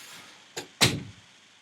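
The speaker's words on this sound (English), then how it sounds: "Let's close our door." A door swings shut with a light knock followed by a louder, close thud that fades away, in an otherwise quiet room.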